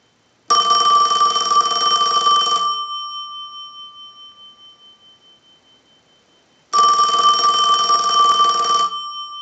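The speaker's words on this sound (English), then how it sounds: "send a ring cycle like you were getting a call" An old Princess rotary dial telephone bell rings loudly in two long trills separated by a pause, the first ring fading out slowly.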